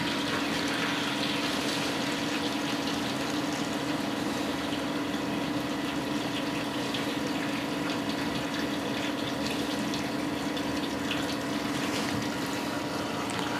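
A steady rushing of wort pumped into a brew pot at full rate, with a constant mechanical hum from the pump, continuous and unchanging throughout, with no voices.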